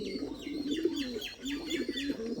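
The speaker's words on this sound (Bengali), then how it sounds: "একটা বোম্বাই কবুতর কি সুন্দরভাবে ডাকা রেখে করতেছে দেখুন" A pair of Bombay pigeons, a male and a female, coo near at hand in repeated rolling phrases, with brief chirps above and no talk.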